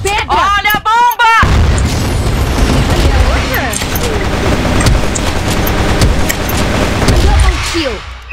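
A grenade blows up in Free Fire, a heavy boom that lands right after a brief spoken shout and then rumbles through a dense wash of battle noise, loud and close, with a voice chirping faintly in the mix.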